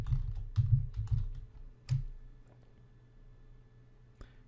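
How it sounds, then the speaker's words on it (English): Typing a formula on a computer keyboard in Excel: a few quick clusters of close key clicks, then sparse single taps fading to quiet. "then type VLOOKUP again"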